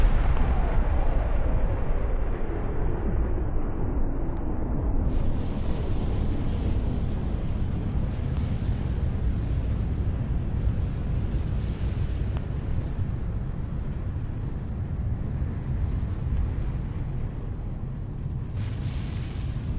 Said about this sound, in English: This is the moment it all started,